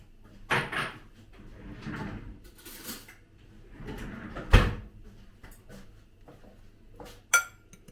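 Utensils stir and toss a salad dressed with olive oil in a dish, giving scattered clinks, scrapes and knocks at irregular intervals, some sharp and close, with quiet gaps between them.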